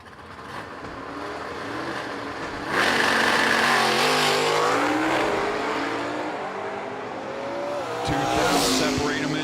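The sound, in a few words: 1968 and 1970 Camaro drag racing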